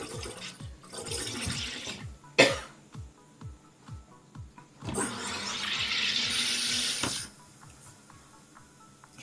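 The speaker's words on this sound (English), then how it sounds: "Push down firmly, hold for 2 seconds and release." A pink SodaStream sparkling water maker carbonates water, giving a short sharp burst of gas hiss followed a few seconds later by a longer, loud, steady hiss that cuts off abruptly, with quieter rhythmic sounds in between.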